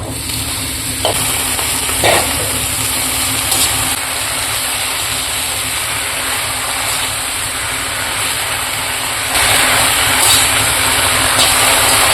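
Lai xaak (mustard green) leaves fry in a pan, making a loud, dense, continuous sizzle with steady stirring and a slight swell near the end, alone without talk.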